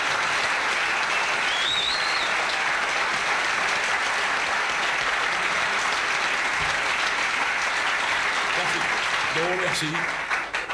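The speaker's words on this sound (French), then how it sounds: "je vais vous demander de garder quelques forces pour applaudir mon collègue Dieudonné" Dense, steady applause from a theatre audience fills the room for about ten seconds, loud and continuous, with a brief voice speaking near the end before it fades.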